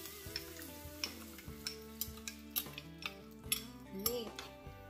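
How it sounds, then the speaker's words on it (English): A spoon stirs burrito seasoning in a bowl, giving repeated light clinks and scrapes in an irregular rhythm, close and moderately loud over a steady musical background. "Then you mix it."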